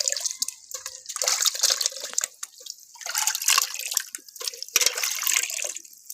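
Rice being rinsed by hand in a vessel of water during the last of several washes, with irregular sloshing, dripping and trickling splashes, close and moderately loud, no talking.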